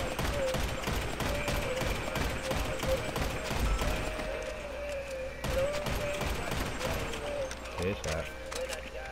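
Gunshots in GTA, a dense rapid crackle of shots under constant game noise and a steady tone, loud and busy throughout, with a person talking over it.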